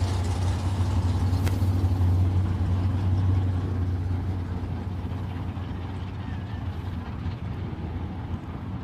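Supercharged Outlaw top eliminator Wild Bunch drag car, a Jerry Bickle build, idling at a nostalgia drag racing pit with a steady low rumble that eases slightly later on, under ambient pit noise.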